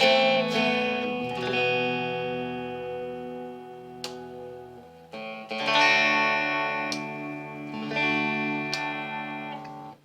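A Telecaster-style electric guitar on its neck pickup gives a warmer, rounder tone, ringing out in sustained chords with picked notes, close and moderately loud, with slight chorus-like shimmer.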